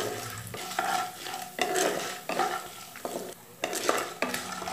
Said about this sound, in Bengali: আবার এটাকে একটু ফ্রাই করে নেব।